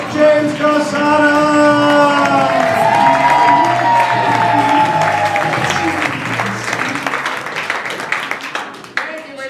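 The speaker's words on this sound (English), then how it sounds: "please give a round of applause for your host, James Quesada!" A comedy-night crowd applauds and cheers as the host is introduced, with loud, dense clapping, whoops and shouts over a music sting that fades, the applause thinning toward the end.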